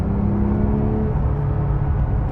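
A 2026 Porsche 911 GT3 Touring engine in track mode, a loud, continuous low rumble with a held engine note, heard close from inside the car.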